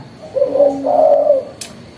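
A spotted dove coos nearby, two soft, low, throaty notes in quick succession, followed by a brief high chirp in a quiet setting.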